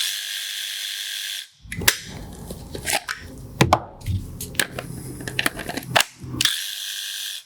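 A DeWalt cordless power tool on a 20V XR battery, set to speed 7 with a soft start, whirs steadily at the beginning and end, with a stretch of close, clattering mechanical clicks and knocks in between.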